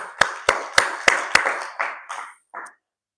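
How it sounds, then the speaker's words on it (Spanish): A small church congregation claps together after a prayer, with about five sharp, loud claps in a loose rhythm followed by a few fading, scattered claps that trail off into silence. "Un aplauso, Señor, hermanos."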